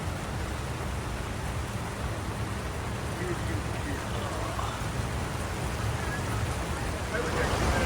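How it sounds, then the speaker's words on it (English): Rain falls steadily at Midwest Dirtfest, a dirt bike and off-road event at the Silver Lake dunes, heard as a constant broad hiss that swells slightly toward the end. "Wouldn't be Midwest Dirtfest without some rain."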